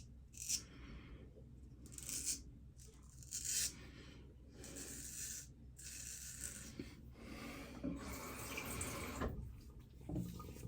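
Fingers are rinsed under a running water tap to wash off lather, with the flow of water coming in uneven splashing bursts that start and stop several times, close by and moderately quiet.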